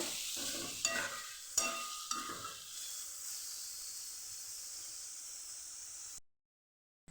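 Boiled papaya sautés in a pan with a bright sizzling hiss, punctuated by a few scraping stirs early on, then fades to silence near the end.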